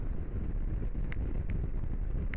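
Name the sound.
wind while riding Honda NX500 motorcycle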